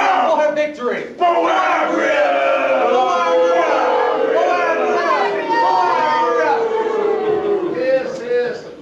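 A crowd of young performers cheers and shouts in unison for their general in a stage production, a loud, sustained chorus of overlapping voices that dips briefly near the start and then carries on.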